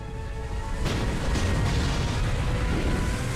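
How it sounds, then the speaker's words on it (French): A sudden deep boom cuts in after a quiet start, followed by a sustained, heavy low rumble of naval shell explosions rolling on without a break as shells fall on the battleship Bismarck. "Et les obus continuent de s'abattre sur le Bismarck."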